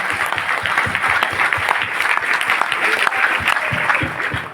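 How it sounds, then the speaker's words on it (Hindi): An audience applauding to greet someone on their birthday at a Malviya Jayanti gathering in Lakhisarai: sustained, dense clapping from a crowd, steady and fairly close, filling the clip without talk. "सब लोग ताली बजाकर आपको जन्मदिन की बधाई।"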